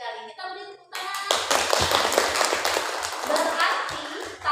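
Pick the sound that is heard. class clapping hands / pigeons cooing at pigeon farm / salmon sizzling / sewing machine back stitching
class clapping hands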